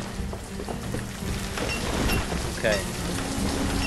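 Steady rain falling in the city-building game Banished, a constant patter with soft low rumbles mixed in, while someone says a brief word over it.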